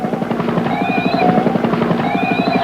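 Israeli military helicopter in 1991 news footage over a protest, its rotor thumping in a fast, steady, loud rhythm with a whining turbine tone on top, close and continuous.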